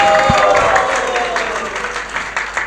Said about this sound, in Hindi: एक बार जोरदार तालियां हो उनके लिए